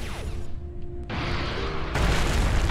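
Missile strikes in the space shooter Everspace 2 land as a string of booming blasts, a sharp hit near the start and heavier, louder explosions building toward the end, with no talk.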